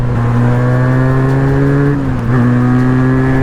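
A loud Benelli 302S motorcycle engine holds a steady, droning rev close by, dipping briefly before settling back to the same pitch.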